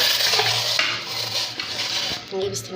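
A metal baking tray for mackerel brought out and handled in a kitchen, a steady clatter of pan and utensil scraping and knocking, close, with a voice talking over it.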